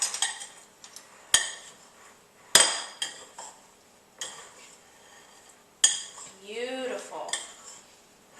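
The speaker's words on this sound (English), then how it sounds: "we're just going to toss them with the sugar" Berries tossed with sugar in a bowl, heard as sharp utensil knocks and clinks against the dish with scraping stirs between them, close and fairly loud, with a brief squeaky scrape near the end.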